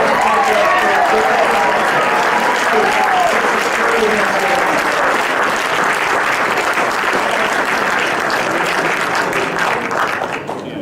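A crowd at an innovation awards ceremony applauds the winners, a loud, sustained mass of clapping from the audience that continues throughout and eases slightly at the very end.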